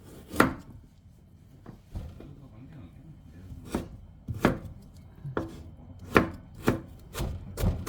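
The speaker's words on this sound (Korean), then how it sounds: "잘잘하게 썰어줍니다. 당근, 당근도" A knife finely chopping carrot on a board in sharp, uneven strokes, several quick cuts clustered near the end, close by and with light talk in the background.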